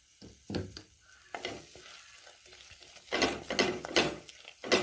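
Pumpkin halva being stirred in a pan makes irregular scraping and soft thudding strokes with a light sizzle underneath, the strokes growing louder and more frequent toward the end.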